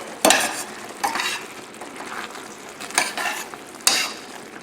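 A spoon stirs a mixture of scallions, red pepper and fresh parsley in a pan, four sharp scraping strokes over a soft sizzle.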